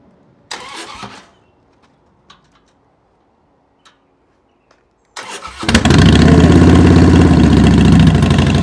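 A few faint clicks and taps, then a motorbike engine cranks, started in gear, and fires up into a loud, steady rumbling idle close by.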